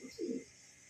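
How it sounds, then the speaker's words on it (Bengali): A single soft, low coo from a male Bombay pigeon, close and fairly quiet, a short rolling call against a faint background hum. "কবুতর যখন এরকম ঘুরে ঘুরে ডাকে তখন কি যে ভালো লাগে"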